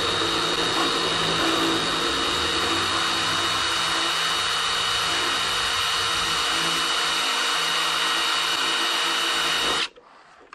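A power drill run in reverse forces a screw down into wood, giving a loud, steady whirring drone that holds for about ten seconds and then cuts off abruptly.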